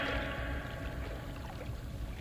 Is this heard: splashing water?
yes